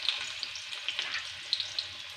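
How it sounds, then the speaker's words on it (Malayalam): Onions sizzle in hot oil in a frying pan, a steady close crackle with small pops scattered through it and no voices over it. "ഞാൻ അതിലേക്ക് ഇടുന്ന ഉള്ളിയാണ്"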